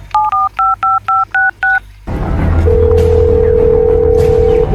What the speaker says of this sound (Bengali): এডিটর কুবরারে ফোন লাগা।